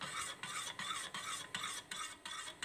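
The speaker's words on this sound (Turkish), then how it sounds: "Karıştıra karıştıra pişiriyorum." A spoon stirs baby milk pudding (muhallebi) as it cooks in a pot on the stove, scraping in a steady rhythm of about three strokes per second, close and clear, with no voices.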